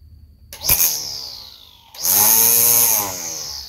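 A cheap battery-powered string trimmer from Walmart spins up in two bursts, a short whine rising then a louder sustained high-pitched whirring that holds steady before easing off, close and alone with no talk.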